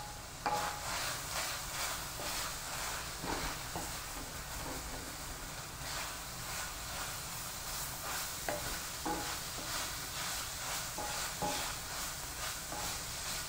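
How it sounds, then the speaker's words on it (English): Ground beef frying in a pan hisses steadily while a utensil scrapes and stirs it in irregular strokes, close and continuous with no talk. "Give the beef a quick stir."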